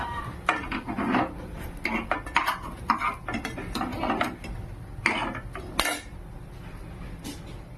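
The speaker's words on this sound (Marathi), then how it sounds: "आता आपण काढून घेऊया प्लेटमध्ये।" Fried appe are lifted from an appe pan onto a plate, giving a run of close metallic clinks, scrapes and clatters at an uneven pace over a faint background, with no voices.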